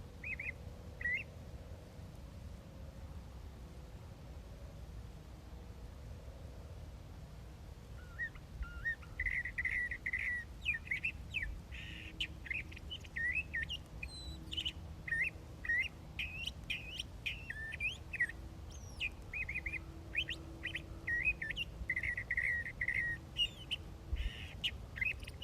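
A thrasher sings in the open, delivering long rolling phrases of chirps and whistles in a mockingbird-like manner, moderately distant, with short pauses between bursts over a quiet background.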